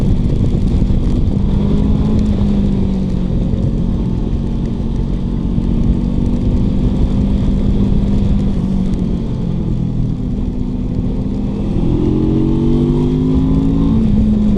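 A QJ Motors 450 RX adventure motorcycle engine drones loudly and steadily while riding, a smooth heavy hum with slight pitch rises as it revs near the end, with no talking over it.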